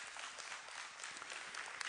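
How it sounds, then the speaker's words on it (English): A church congregation applauds with dense, continuous hand clapping that sounds fairly distant and soft, with no voices over it. "Give God a hand clap there."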